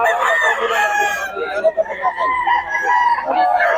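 A rooster crows loudly and close by, one long harmonic call lasting several seconds, with rough, broken bursts in the middle of it.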